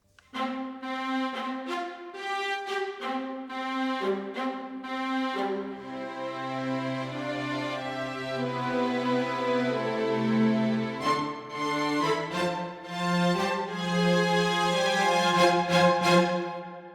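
A string section plays an original song, sustained bowed notes with lower voices entering midway and the texture thickening, steady and close with no talking.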